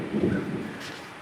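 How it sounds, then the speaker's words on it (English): Deep, rolling thunder rumbles through a fluid acrylic paint-pouring session, a loud low roar that swells early and then fades gradually with no talking. "Oh yeah, that's some loud thunder."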